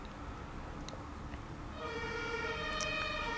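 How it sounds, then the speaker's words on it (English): A siren passes outside, swelling in partway through as a steady, layered wail over a quiet indoor background, with no talking. "Oh, there's a siren."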